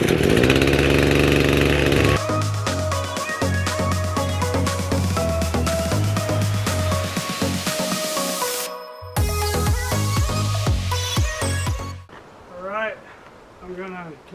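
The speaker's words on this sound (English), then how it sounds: "Clean the chainsaw and call it a day." A chainsaw cuts massive logs for a cabin wall, its engine droning steadily and loudly for several seconds before a short break and a final burst. A voice speaks briefly at the end.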